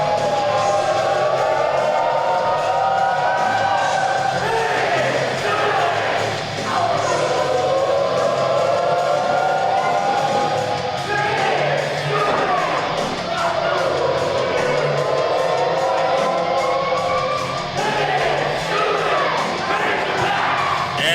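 A wrestling crowd at a WCWA event roars and chants for Dean Fleming, loud and continuous with rising whoops and yells in rhythmic waves throughout.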